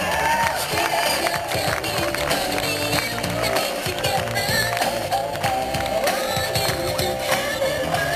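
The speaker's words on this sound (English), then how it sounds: "You can be louder than that. Let's hear some clapping." Hypnotist stage show audience clapping loudly and steadily in a dense, continuous wash of applause with some cheering, sustained throughout without a break.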